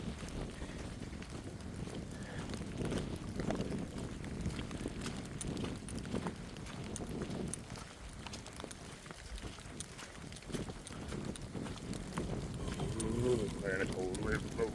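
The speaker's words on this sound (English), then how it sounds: "there the cold wind blows" Cold wind gusts across the microphone outdoors on the Appalachian Trail in North Carolina, a continuous low buffeting rumble with rustling, and a voice speaks briefly over it.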